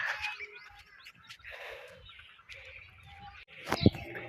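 A small bird chirps outdoors on a mustard plant stalk in a village field of wet, freshly watered ground, giving faint, scattered calls over soft background noise, with a louder burst near the end.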